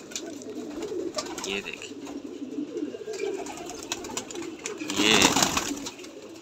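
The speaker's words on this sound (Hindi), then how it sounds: "ये कासनी कबूतर पट्ठा।" High-flying pigeons coo softly in the background while someone talks close by, with a louder burst of cooing and rustling near the end.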